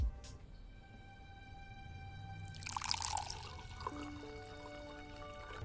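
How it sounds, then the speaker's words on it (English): Wine being poured in a film scene, a soft liquid trickle and splash rising midway under sustained musical tones, fairly quiet and alone. "there's something inherently funny about this wine pour scene"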